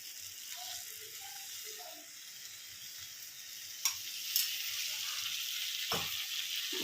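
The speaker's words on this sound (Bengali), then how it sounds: "এবার আলু আর চিংড়ি মাছটা যতক্ষণ না সেদ্ধ হচ্ছে ব্যাস এরমভাবে একটু ভেজে নিতে হবে।" Potatoes and shrimp fry in mustard oil with a soft, continuous sizzle close by, fairly quiet overall. A couple of sharp utensil clicks sound near the middle and end.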